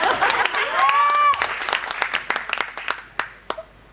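Applause from an audience at a college fest event, a dense burst of many hands clapping that thins out into scattered individual claps, with a brief tonal voice or whistle sliding over the start.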